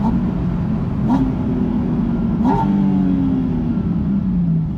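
Porsche Spyder RS engine droning steadily while driving, rising in pitch through two quick revving gear changes, loud and close with no talking.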